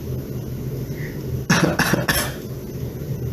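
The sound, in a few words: storyteller imitating a cough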